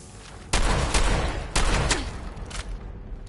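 Gunfire from Fallout 4 on PS4: several loud, close gunshots crack out in quick succession, each a sharp blast with a short ringing tail, followed by a fading echo.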